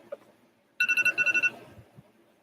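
A phone rings indoors in a brief burst of bright, repeated electronic trills lasting under a second, then fades into quiet room noise.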